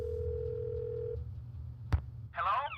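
A steady ringback tone pulses through a phone receiver in the Nancy Drew game The White Wolf of Icicle Creek, followed by a sharp click as the line connects and a brief burst of voice.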